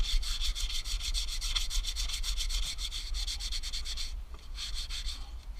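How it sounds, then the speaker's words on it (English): Sandpaper of 80 grit rubs steadily and briskly back and forth by hand in quick, even strokes, close and fairly quiet, with a short break near the end. "Now what I'm going to do is I've got some 80 grit sandpaper, and we're just going to"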